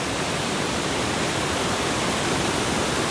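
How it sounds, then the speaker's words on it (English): Wide waterfall roaring with a steady, dense rush of fast-flowing water, loud and unbroken throughout, with no voices, at the 4000 Islands in Laos. "The water is flowing at such a speed."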